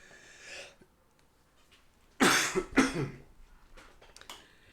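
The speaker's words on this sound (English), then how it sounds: "I'm just going to have a good cough" Two harsh coughs in quick succession, fairly close, with faint rustling and quiet movement around them.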